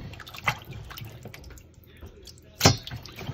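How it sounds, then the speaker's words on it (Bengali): Water drips and trickles off washed raw chicken meat, with a couple of sharper splashes against a quiet background. "আমরা মাংস ধুয়ে পানি ঝরিয়ে নেব"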